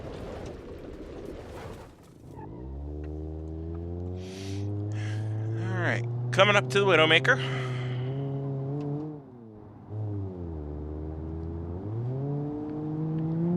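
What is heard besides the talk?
Ibishu Covet 4-cylinder car engine revving, BeamNG.drive video game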